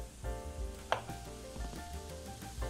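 A knife chops a potato in the video game Cooking Simulator, with several crisp cuts in an uneven rhythm over a sizzling kitchen background and a bright metallic clink early on.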